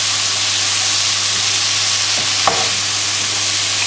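Leeks frying over full heat in a pan, a steady broadband sizzle holding constant throughout with a brief soft stir or clink near the middle.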